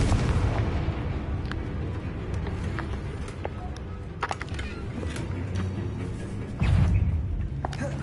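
Blasting spell explosions from a Harry Potter video game thump out as low, heavy booms, one early and one louder burst later, over busy game clatter with a voice speaking.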